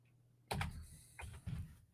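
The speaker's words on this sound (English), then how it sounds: "Now let's type that in." Quick bursts of keystrokes on a computer keyboard as a stock ticker is entered, four short clusters of clicks close by against a quiet room hum.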